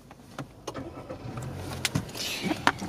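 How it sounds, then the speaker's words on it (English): A Jazz car's engine is started by pressing the push-button start with the clutch held down: a few clicks and a short whir, then the engine catches and settles into a steady idle close by. "press your start button to start the engine up"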